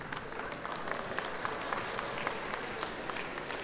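A comedy show audience in Lagos claps for the comedian, steady dense applause from a crowd, moderately loud and continuous with no voices on top.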